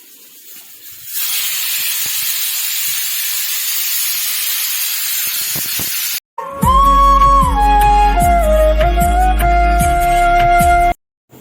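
A pressure cooker cooking rice releases a loud hiss of escaping steam for several seconds, then it cuts off and a piercing, sustained multi-tone whistle blasts close by.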